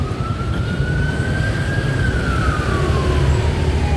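Police siren on Rizal Avenue Extension, Santa Cruz, Manila, a loud, close wail rising then slowly falling over steady street and traffic rumble.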